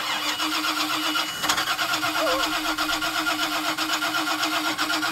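A hydrolocked boat engine with rusted spark plugs cranks over steadily with a rhythmic starter churn and a close mechanical drone, but never catches and runs.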